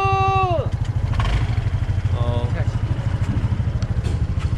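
A motorcycle engine throbs steadily with a close, rhythmic pulse while riding around Ulleungdo island, with a voice heard briefly near the start over the engine.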